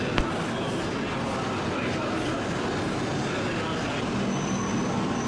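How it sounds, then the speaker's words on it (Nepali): A Japanese Shinkansen bullet train passes close by with a loud, steady broadband rush that holds for the whole stretch. Faint voices may sit under the noise. "यो चाहिँ जापानको एकदम स्पिड कुद्ने बुलेट ट्रेन हो जसलाई जापानिजमा चिनकान्से भनिन्छ"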